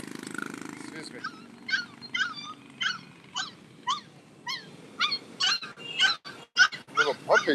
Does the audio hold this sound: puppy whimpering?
yes